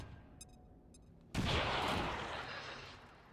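A needle grenade detonates in the video game XCOM 2: a sudden loud blast that hits hard and then rolls out into a long crackling decay, after a quiet stretch with a few faint clicks.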